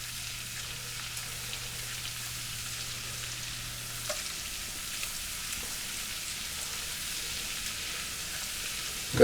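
Onions softening in a garlic butter and olive oil mix sizzle gently and evenly in the pan, a constant low crackle with no talking.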